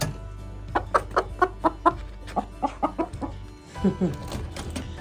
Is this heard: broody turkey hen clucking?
yes